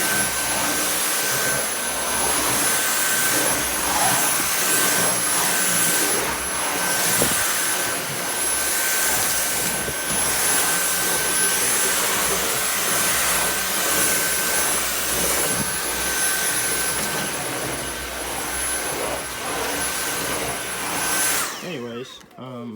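A Dyson V8 Absolute cordless vacuum running on its high suction setting gives a loud, steady whine with a faint tonal edge, wavering slightly for about twenty seconds before cutting off abruptly at the end.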